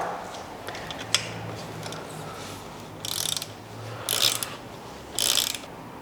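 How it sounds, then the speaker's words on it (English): A 5mm Allen key turns with ratcheting clicks as the roller wheels on a Brompton folding bike's rack are tightened; three short bursts of clicking stand out over a low background hum. "I'll do my advanced roller wheels up using a 5mm Allen key to 5 Newton meters."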